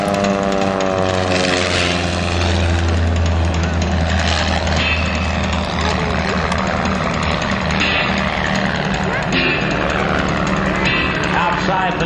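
A clipped-wing Taylorcraft propeller airplane flies aerobatics, including a hesitation roll, with a loud, steady engine drone and propeller buzz whose pitch shifts slowly as it maneuvers, heard alongside a voice talking.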